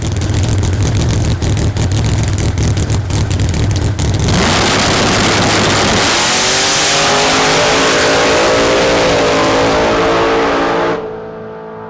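Drag racing cars blast off the line in a heads-up race, loud and close, the engines roaring and rising in pitch as they accelerate away before the noise cuts off abruptly.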